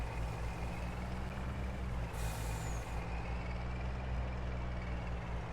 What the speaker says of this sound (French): Allez, mon petit camion, tu peux le faire, tu es costaud.